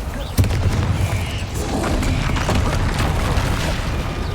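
Confringo fire-blast spells cast in the Hogwarts Legacy video game, a sharp boom at the start followed by a dense, rumbling burst of fiery crackle that keeps going.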